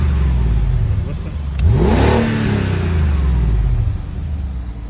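A 2006 BMW X5 4.8is V8 engine revs once in a quick rise and fall over a steady idle rumble, heard from close by with no talking.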